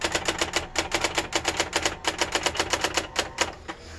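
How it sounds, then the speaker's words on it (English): A Brother GX-6750 electronic typewriter types on its own in demo mode, giving rapid, evenly spaced sharp mechanical key strikes in a close, loud continuous run. "typewriters typing themselves is so freaking crazy"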